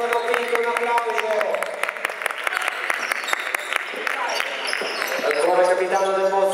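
Applause from spectators at an under-14 youth basketball tournament game, steady crowd clapping under continuous commentator talk, with a ball bouncing on the court.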